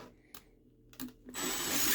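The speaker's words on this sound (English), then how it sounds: "we'll drill through and see if I can get the cartridge open that way" A power drill boring into a plastic SNES game cartridge, with a couple of short handling knocks first and then a steady rising whir of the bit biting into plastic, close and fairly loud.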